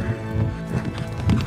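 Horse galloping in a House of the Dragon episode scene, rapid rhythmic hoofbeats with a brief whinny, loud and close over a dense soundtrack.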